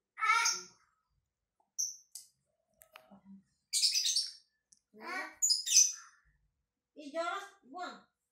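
Birds chirp and call in short bursts, with some sharp clicks and a low cawing note, over several seconds. A child and an adult talk between the calls.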